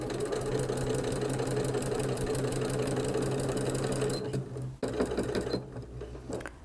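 A sewing machine runs steadily and close for about four seconds, stitching across the last stretch of binding on a quilt, then stops and gives a few short mechanical clicks.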